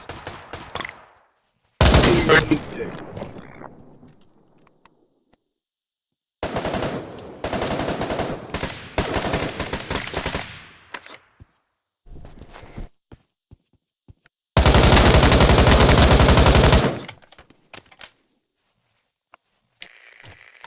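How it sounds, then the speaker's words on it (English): Rifle gunfire in the VR shooter Pavlov, heard as several loud bursts of rapid automatic fire separated by quiet gaps, with clicks and rattles of a magazine reload between the volleys. "I just reloaded right there in the middle of shooting"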